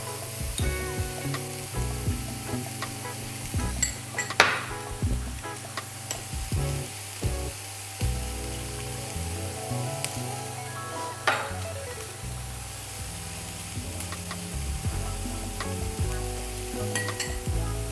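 Soy sauce, fish sauce and sesame oil hit a hot pan with a loud, steady sizzle, while a utensil scrapes and stirs in uneven bursts throughout, with no talking.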